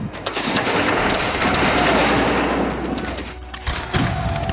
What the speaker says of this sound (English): Stark instructed his men not to fire until the British troops were within approximately 30 yards